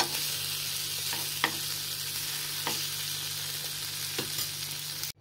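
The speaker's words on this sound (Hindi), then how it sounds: "चलिए पहले इसे हम भून लेते हैं अच्छे से पनीर को।" Cubes of paneer roasting in a hot pan give a continuous close sizzle, broken by a few sharp spatula scrapes and taps, with a low steady hum underneath before the sound cuts off abruptly.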